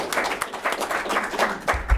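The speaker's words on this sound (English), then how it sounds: "Let's give them another round of applause." An audience claps for honored students at a school Student of the Month ceremony, with dense, steady applause and a few louder claps near the end.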